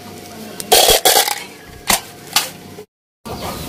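A homemade slingshot built from old pliers fires pellets, giving several sharp, close snapping cracks spaced irregularly over a few seconds, with quiet background between shots.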